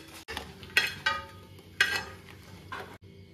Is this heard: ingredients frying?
yes